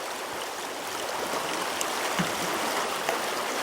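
River water flows in a steady broadband rush, a continuous moderate hiss with faint trickling detail and a few soft knocks, no voices.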